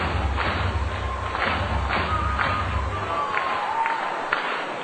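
Baseball crowd cheering on their feet at a minor-league game, Cedar Rapids Kernels hosting Kane County Cougars in 2010: a sustained roar of fans with scattered thumps and claps rising through the stands, loud and steady, no talk over it.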